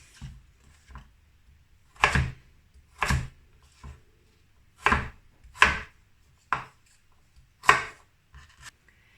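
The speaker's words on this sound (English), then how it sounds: "I'm gonna cut them into little squares" A knife cuts celeriac root slices into small cubes on a board, producing distinct, crisp chopping thuds that come singly and in pairs with short pauses between them, close and clear.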